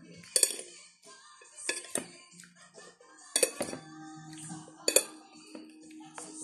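Utensils stir a cucumber salad in a bowl, making sharp clinks and scrapes in irregular bursts with quieter scraping between them. The sound is close and fairly soft, with no talking.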